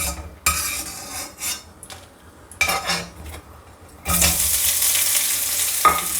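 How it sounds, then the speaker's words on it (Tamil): Mint, ginger and onion sautéing in a pan for thoothuvalai pudina thuvaiyal, with a spoon clattering and stirring in bursts, then a loud steady sizzle taking over in the second half; close by, no talking. "லைட்டாக புதினா, இஞ்சி, வெங்காயத்தை தான் நல்லா வதக்கணும்."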